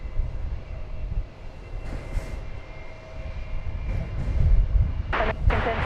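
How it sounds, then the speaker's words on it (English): An American Airlines Airbus A321 airliner on its takeoff roll at Dallas/Fort Worth Airport, a steady broad engine roar heard from a distance that swells slightly toward the end, with no voices. "American Flight 1075 going to Palm Springs. It's an Airbus A321."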